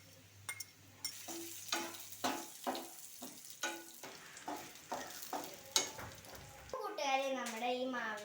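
Grated coconut frying and sizzling in hot coconut oil, with a run of stirring scrapes and soft clatters repeating at an even pace, and a bright crackling sizzle swelling near the end.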